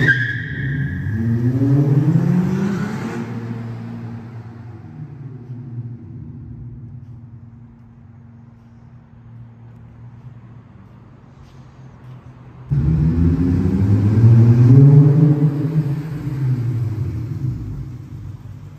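A six-speed third-generation Acura TL with a Black Widow muffler and dual tips revs twice, each burst a loud rising and falling exhaust roar separated by a quieter stretch of steady idle rumble.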